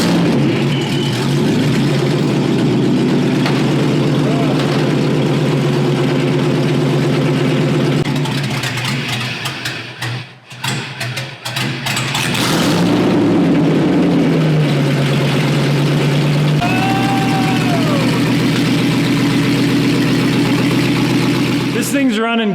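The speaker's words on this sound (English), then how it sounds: "It doesn't have any mufflers, so it sounds pretty aggressive" Loud, rough engine note from a car with no mufflers, idling heavily, then a short drop and a rev before settling back to a steady rumble, with people talking nearby.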